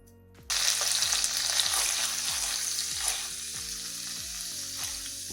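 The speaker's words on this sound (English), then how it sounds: "let's add our curry leaves" Green chilies and curry leaves crackle and sizzle in hot oil for vada pav, a sudden loud burst of frying that keeps spitting and popping close by, with a few stirring scrapes.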